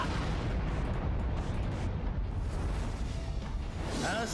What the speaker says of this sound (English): I should probably use my soul bomb here.